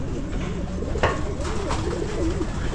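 Pigeons in a loft coo with soft, repeated throaty calls under a steady background hum and rustle, several birds close by.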